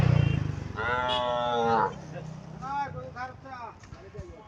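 Calves mooing at a busy Eid cattle market in Cumilla, Bangladesh, with several drawn-out bellowing calls in sequence, close and fairly loud, mixed with crowd murmur and people talking nearby.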